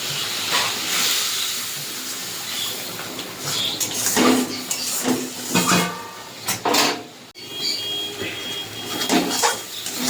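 Spice paste for an eggplant and fish curry hisses and sizzles in a hot pan, a loud steam surge rising in uneven bursts as water is added, with stirring clatter.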